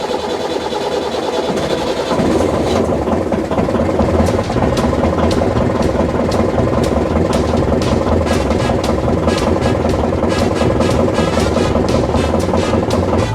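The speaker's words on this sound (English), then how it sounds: "So we just fired up the engine and it looks like it's good" A boat engine being started after fuel-line repair work, catching and settling into a steady, loud, close idle with a rhythmic knocking chug that continues throughout.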